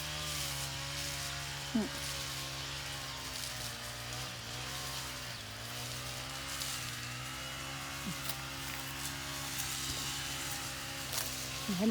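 A steady, droning engine whine runs throughout from a small two-stroke brush cutter cutting grass continuously nearby around a water tank, with faint voices and slight variations in pitch.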